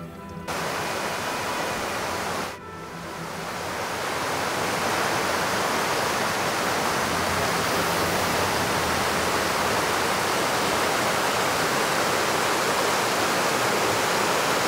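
The Bigar waterfall roars in a dense, continuous rush of falling water, briefly dipping before swelling back to a loud, steady wash that holds to the end.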